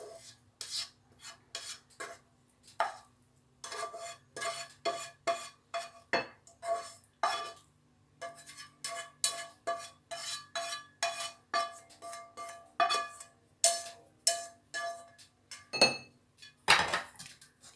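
Cooked mushrooms being scraped and spooned into a bowl, a steady run of close metallic clinks and scrapes of utensil against dish, with no talking.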